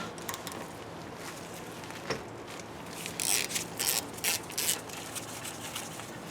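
A T30 Torx rotor screw is worked out at the rear wheel of a 2010-2015 Camaro. Soft, rapid ratchet clicks come in short bursts, nearby but quiet, and grow denser toward the middle of the stretch. No one speaks.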